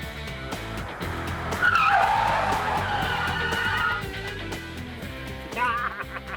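An automatic car braking hard from 50 on asphalt, its tires skidding and squealing in a long, loud screech over the engine, with the sound fading as the car stops; no one speaks.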